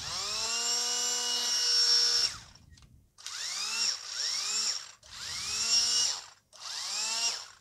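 A cordless battery drill whirs close and loud in one long run, then four shorter bursts, each spinning up with a rising whine and winding down between presses of the trigger.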